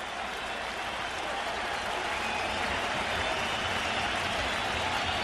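A baseball crowd at Shea Stadium rises to its feet during a World Series game, a dense, steady roar of cheering and applause filling the whole stretch without a break.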